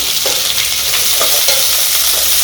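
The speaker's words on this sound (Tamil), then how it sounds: "இந்த பொடி உள்ளியை அதோட போட்டு நல்லா வதக்கி விடுவோம்" Chopped shallots and curry leaves sautéing in a hot pan with oil, a loud steady sizzle and crackle running throughout, with faint stirring scrapes.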